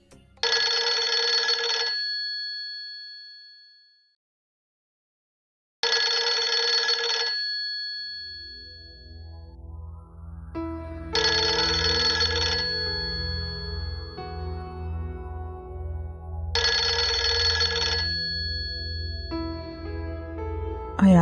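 A telephone rings in repeated bursts, two clear rings separated by silence, then further rings continuing over a low background hum and some faint voices.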